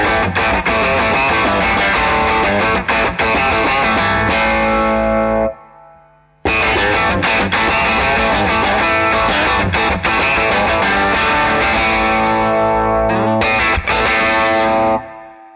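Electric guitar played through a Victory Duchess MKII tube amplifier, a simple amp giving varied tones; loud, dense distorted chords with chorus-like effects ring out, stop briefly in a short gap, then resume with sustained strummed passages.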